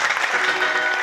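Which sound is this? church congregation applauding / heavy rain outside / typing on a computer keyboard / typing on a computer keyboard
church congregation applauding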